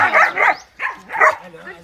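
A small adopted dog barks and yips a few times at close range, short sharp bursts alongside people chatting nearby.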